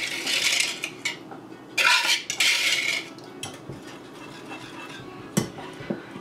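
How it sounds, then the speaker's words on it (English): Lemon curd whisked in a pot: fast metallic clinking and scraping of a whisk against the pot, loud bursts at the start and middle, then quieter intermittent taps and scrapes. "whisk this until it's cooked"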